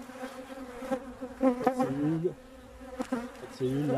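Honeybees crowded on a hive frame buzz close by in a steady drone with rising and falling whines, while a person speaks briefly over them.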